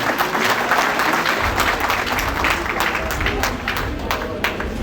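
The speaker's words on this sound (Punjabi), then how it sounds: "ਜ਼ੋਰਦਾਰ ਤਾੜੀ ਨਾਲ ਸਵਾਗਤ ਕਰਨ ਦੀ" Dense, steady applause from a large crowd at a political rally stage, loud and close, filling the whole stretch, with a voice faintly audible beneath the clapping.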